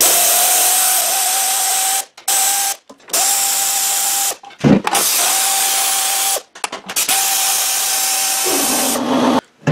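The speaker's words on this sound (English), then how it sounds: "sorry about the compressor running" An air compressor runs steadily near a snow blower repair bench, a loud continuous mechanical drone with a steady tone that cuts out briefly several times, with a few knocks and clatters in the gaps.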